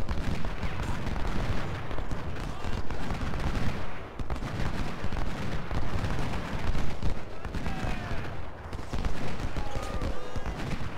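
Massed musket volleys from troops crackle in a continuous dense roar across a Civil War battle at Parker's Crossroads in Ultimate General: Civil War, loud and unbroken with faint distant shouts rising now and then.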